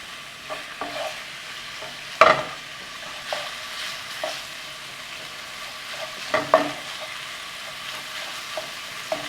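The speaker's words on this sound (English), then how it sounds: "we just want to sort of stir fry this and browning it until it just, when we see no more pink" Ground beef stir-fried and browned in a pan while being broken into small pieces, giving a soft, low sizzle with occasional sharp scraping and clattering strokes of the utensil, close and fairly quiet, with no talking.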